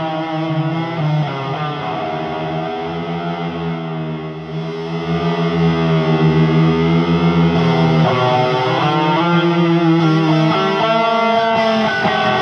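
Electric guitar played through a HeadRush delay with an ambient modulated reverb, sustained distorted notes and chords washing into a thick, swirling wet tail, steady and loud throughout with no voices.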